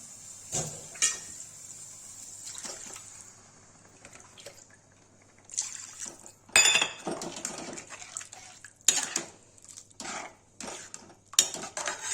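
Water is tipped into a pan of cooked tomato puree for an Indian egg curry, giving scattered splashes, metallic pan clinks and brief pouring bursts against a quiet kitchen with a low steady hum.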